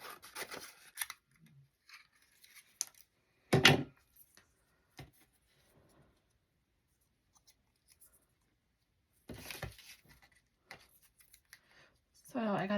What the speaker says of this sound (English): I really like cutting out these little florals